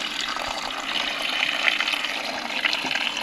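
Tap water runs steadily into a container, a continuous broadband gush with slight fluctuations, close and fairly loud with no voices.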